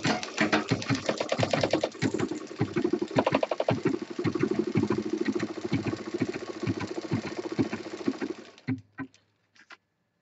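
Rapid rhythmic clatter of a sewing machine stitching a belt onto a handbag runs close and steady for about eight seconds, then stops with a few faint clicks.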